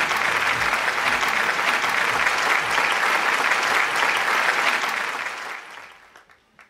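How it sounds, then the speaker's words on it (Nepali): Dense, steady audience applause at a singing competition show rolls on evenly for several seconds, then quickly fades into a few scattered claps. "जोरदार ताली दिँदै उहाँहरूलाई हामी अगाडि गएर बस्दिनु न हार्दिक अनुरोध गर्न चाहन्छौँ"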